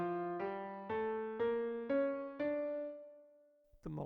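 A D harmonic minor scale plays upward on a pitched tonal instrument, six clearly separated notes at an even, moderate pace, with the final note left to ring and decay before a short new sound cuts in at the end.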